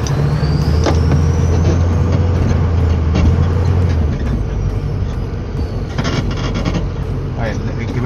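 The engine of a 1988 Toyota Cressida runs while the car reverses, a loud, close, steady rumble with a rising whine, plus some clicks and a brief shift in tone partway through.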